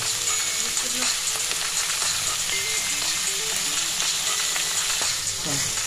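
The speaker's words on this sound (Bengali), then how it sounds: "এবার দেখুন সবজিগুলো আস্তে আস্তে ভাজা হচ্ছে।" Chopped vegetables and carrots fry in a wok with a constant close sizzle, while faint stirring and soft background tones run beneath it; no one speaks.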